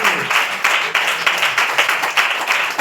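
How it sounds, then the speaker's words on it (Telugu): A church congregation at a praise and prayer service claps in a steady rhythmic pattern, with roughly two firm beats per second. The clapping is close, loud and unaccompanied by talk. "అర్థమైన వాడు చప్పట్లు కొట్టి"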